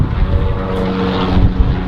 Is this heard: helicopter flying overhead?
yes